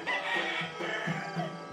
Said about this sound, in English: I wake up to the sounds of early morning village life. Roosters call